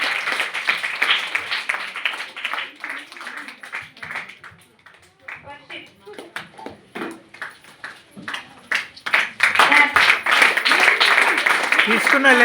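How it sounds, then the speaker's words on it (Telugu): Sunday school children clap at a Christmas celebration, a ragged burst of hand claps that swells louder toward the end, with voices and chatter mixed throughout. "చప్పట్లు."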